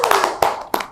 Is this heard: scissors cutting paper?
no